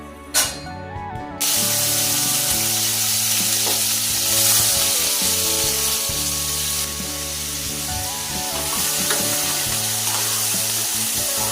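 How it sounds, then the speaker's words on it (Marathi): Paneer hits hot oil in a kadhai with a sudden burst, then keeps up a loud, steady, close sizzle and crackle for several seconds, easing a little later on; no one speaks. "पनीर या ठिकाणी आपण आता तेलामध्ये छान असं फ्राय करून घेणार"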